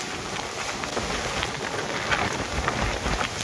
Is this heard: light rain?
yes